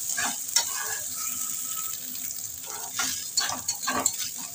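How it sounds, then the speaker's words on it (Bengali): Taro leaves (kochu shak) with coconut stir-fried in a pan give a steady sizzle with scraping stirs and clinks of the spatula, close and fairly loud. "নাড়াচাড়া করে একটু ভাজা ভাজা করে নেবো সুন্দর করে"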